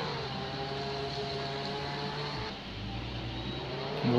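Engine of a car in the video game Jailbreak drones steadily at close range, holding an even pitch before it dips and then swells again near the end, with no talk over it.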